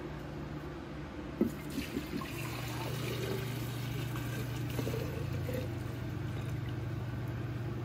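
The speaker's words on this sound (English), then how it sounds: "I have my 4 cups of vodka. I'm going to go ahead and pour that in there" Vodka poured into a container for homemade vanilla extract, a soft steady liquid trickle running continuously after a brief clink near the start, close and fairly quiet.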